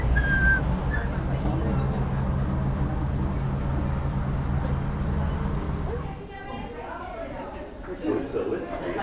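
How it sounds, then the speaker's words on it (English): Silbo Gomero, the whistled language of La Gomera used to call across the hillsides, heard as a short clear whistle near the start over a dense, noisy crowd din, followed later by murmuring voices. "they communicate across the hillsides through whistling"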